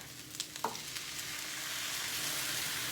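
Steady hissing sizzle of fried rice frying in a pan, with a few stirring scrapes near the start, then a continuous close crackle.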